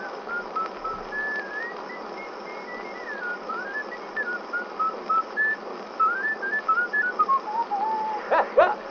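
On an early vaudeville recording, a man whistles a lilting tune alone, the clear warbling notes rising and falling over the steady hiss and crackle of the old record, growing louder toward the close.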